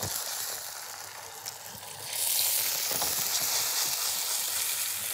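Red mullet fillets sizzling in oil in a pan on full heat, a steady close frying hiss that swells louder partway through as the fish is stirred, no voices.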